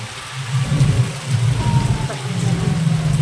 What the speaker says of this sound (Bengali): তো দেখো বৃষ্টি এসে গেছে